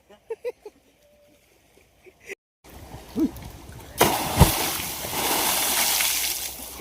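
Water splashes and sloshes in a well as people swim, with loud, sustained splashing and churning building in the latter half, preceded by brief knocks and voices calling out nearby.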